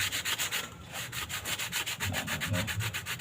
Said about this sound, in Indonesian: tahap pertama harus memakai amplas yang nomor 120